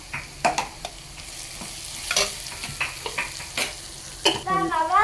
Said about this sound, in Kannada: ಮಸಾಲೆಗಳು ಎಲ್ಲ ಚೆನ್ನಾಗಿ ಫ್ರೈ ಆಗಿದೆ